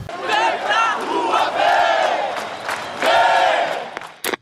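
A large protest crowd marching through the streets, chanting and shouting in loud, sustained waves of many voices, with a brief sharp noise at the end.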